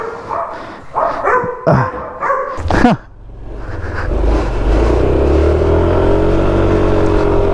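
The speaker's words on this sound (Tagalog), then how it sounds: "lipat tayo ng spot kasi napakaingay ng mga aso" Several dogs bark in quick sharp bursts nearby, then fall silent as the rumble of a passing vehicle takes over.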